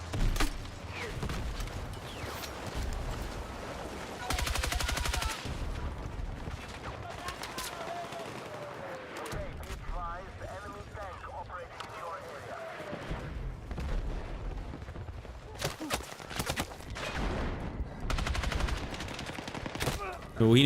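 B36 rifle fire in Battlefield 6 comes in repeated rapid bursts, punchy and loud, with a voice talking over much of the gunfire.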